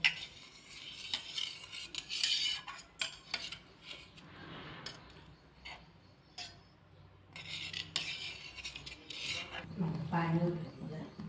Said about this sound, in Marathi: आता कांदा टाकल्यानंतर मिक्स करून घेत आहेत